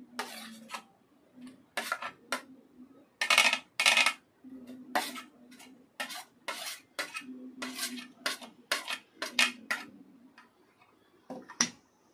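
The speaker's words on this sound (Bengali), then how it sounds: "এবার আমি একটা বাটির মধ্যে ঢেলে নিচ্ছি।" Grated raw mango tipped from a container into a bowl for mango kasundi, heard as a run of clattering utensil scrapes and taps against the dish, close and fairly loud, with no talk.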